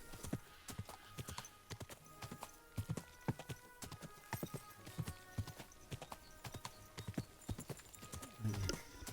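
Horse hooves clip-clop steadily along a path in Kingdom Come Deliverance 2, the rhythmic clopping close and clear throughout, with a brief whinny or snort near the end.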